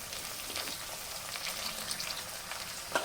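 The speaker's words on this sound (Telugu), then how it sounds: "తర్వాత అందులో ఒక్కొక్క వెజిటేబుల్ వేసేసుకుందాం." Vegetables frying and sizzling in a pot for sambar, among them ivy gourd, okra, tomato, bottle gourd, radish and eggplant, a steady crackling hiss close by with no talking.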